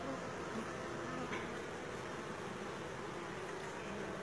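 Honey bees buzzing steadily at a backyard hive, a dense, continuous hum close by with no pauses.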